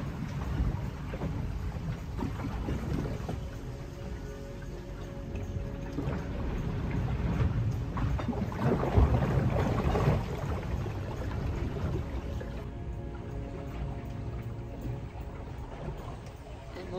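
Inside a sailboat cabin at sea off North Africa, heard from a bunk: low rushing water and creaking hull noise with soft swells of surging sound, steady and muffled throughout.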